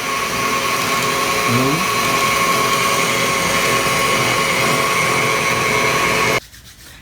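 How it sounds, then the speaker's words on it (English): Electric meat grinder churning bread pieces through to clean out the mince, a loud, steady motor whine that holds for several seconds and then cuts off abruptly. "the trick to cleaning out your grinder is to take a couple of pieces of bread and dump it in there, and it'll just mush it out"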